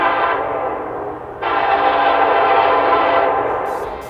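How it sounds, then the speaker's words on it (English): An Athearn Genesis HO scale GP38-2 model diesel locomotive runs on a layout track, giving a steady, fairly loud motor whir and rolling hum that swells sharply partway through and then holds, with no talking. "these new HO scale locomotives from Athearn Genesis are so awesome"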